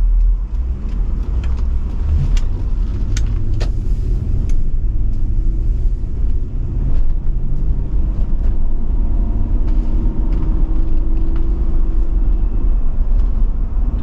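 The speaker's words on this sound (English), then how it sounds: "I'll show you some Land Cruiser spirited driving." A 2007 Toyota Land Cruiser driving onto the highway, a loud steady road rumble and engine drone heard from inside the vehicle, with a few light clicks and rattles and no talk.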